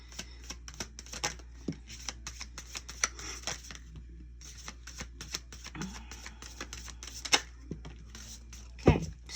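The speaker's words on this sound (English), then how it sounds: "I'm going to do one more shuffle." Rapid ripples and snaps of a card deck being shuffled up close, repeated in several bursts with brief pauses between.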